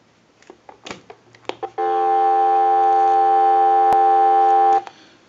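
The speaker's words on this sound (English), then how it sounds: "We'll go ahead and give you some dial tone." A steady multi-tone dial tone on an AT&T 5500 telephone starts after a few brief clicks and taps, holds loudly and evenly for about three seconds, then cuts off.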